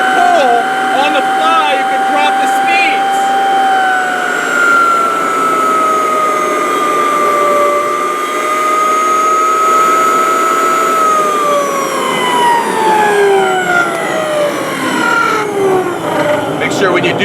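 An HT8-1 variable speed floor drum sander running, a loud whining motor hum whose pitch shifts downward in steps as the speed is changed on the fly, with someone talking over it throughout.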